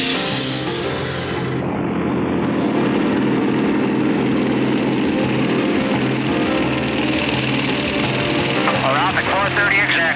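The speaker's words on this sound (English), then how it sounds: "This is the most dangerous takeoff of my life." A Russian Antonov biplane's radial engine roars continuously at high power during a heavily loaded takeoff, loud and close with a steady drone throughout.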